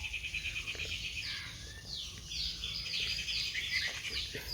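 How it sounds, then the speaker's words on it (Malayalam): Birds chirp and trill outdoors beside a small stream, with repeated high twittering calls over a quiet wash of background noise. "കിളികളുടെയൊക്കെ സൗണ്ട് കേൾക്കാമല്ലോ അല്ലേ."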